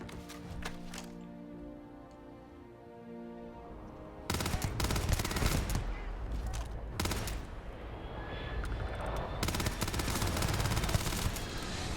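Starfield video game gunfire, 7 millimeter weapons including a Rattler, cracks out in quick bursts and scattered single shots, sparse at first then dense and loud in the second half, with no voices.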